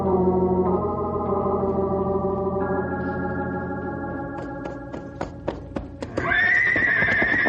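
Horses whinny and neigh in long, shaky calls while hooves clop in scattered beats, ending with another loud, high neigh nearby.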